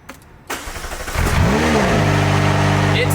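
A McLaren engine cranks and fires after sitting unused for a week or two, catching around mid-clip with a rising rev flare, then settling into a loud, steady, close idle.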